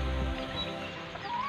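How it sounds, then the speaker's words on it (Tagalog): Hens cluck softly in a backyard pen, a few brief calls at close range over quiet background. "Mga inahin."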